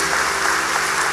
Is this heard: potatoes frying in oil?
no